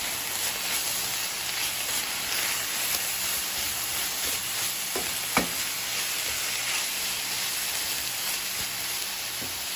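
Seasoned food sizzles steadily in a hot pan, a dense constant frying hiss with a faint scrape of stirring and one brief clink, close up with no talking.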